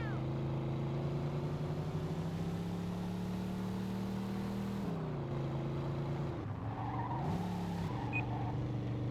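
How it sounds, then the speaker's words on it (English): A car in the video game Mafia II skids under the handbrake, a steady engine drone that dips and wavers as the tires slide, without talk. "I'm pressing the button to activate the handbrake."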